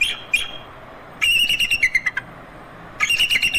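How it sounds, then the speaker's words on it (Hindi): Bird calls offered as an eagle or vulture cry: a short high call, then a burst of sharp repeated whistling notes, and another run of shrill calls near the end, fairly loud and close with no talking. "गिद्ध की आवाज सुने।"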